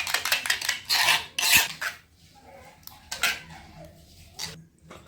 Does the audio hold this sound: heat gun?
no